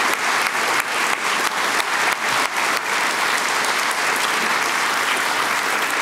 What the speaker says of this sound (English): So a big round of applause for our esteemed judging panel.